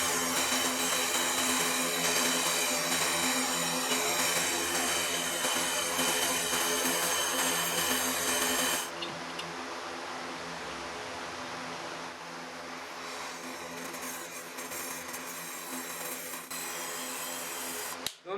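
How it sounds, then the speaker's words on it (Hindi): Gas torch welding nozzles onto a fridge compressor's suction and discharge lines, a loud steady roaring hiss that drops to a softer, thinner hiss midway and cuts off at the end. "पहले जो है मैं इसको यहाँ पे वेल्ड कर लेता हूँ"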